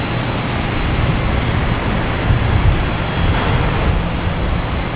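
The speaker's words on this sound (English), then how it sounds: "next to take off, I should say, is a JetBlue flight 2255 heading to Reagan" A JetBlue jet airliner takes off at Boston Logan Airport as a loud, steady, broadband engine roar that holds throughout with no talk over it.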